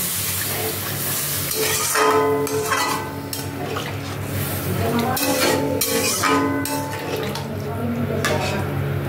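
Water poured into fried, well-cooked spice paste in a pan for a vegetarian curry with lentil fritters, a steady hissing sizzle with stirring and utensil clatter throughout, loud and close.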